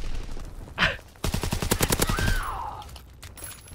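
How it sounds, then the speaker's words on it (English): Rapid gunfire bursts from Call of Duty WW2 free-for-all multiplayer, a dense rattling volley of shots with a sharp crack before it and a faint sweeping tone after. "We're picking up this guy's gun and destroying people with it"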